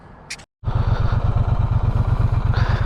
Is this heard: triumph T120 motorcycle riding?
yes